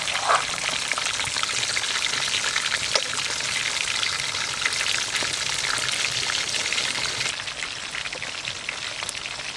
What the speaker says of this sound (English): So we're just going to allow that to cook down